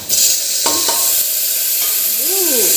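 Tomato sizzles loudly in hot oil in a pan in a home kitchen as it is stirred, a dense, close hiss with a few scraping strokes of a utensil.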